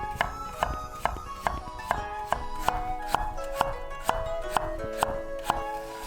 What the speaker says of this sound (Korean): 감자는 2등분을 한 뒤에 반달 모양으로 썰어준다.